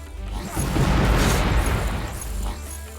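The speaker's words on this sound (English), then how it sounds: "Oh, that explosion's gonna kill me." A heavy explosion in the video game The Last Friend: a loud, close booming blast with a crashing rumble that swells, fades, then swells briefly again.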